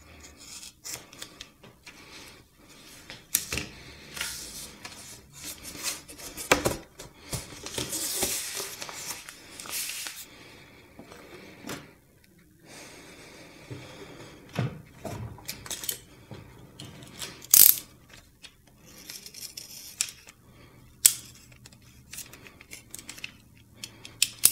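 Scissors snipping wallpaper corners folded over a plywood board, a series of short, close crisp cuts and rustles with brief pauses between them, no talking.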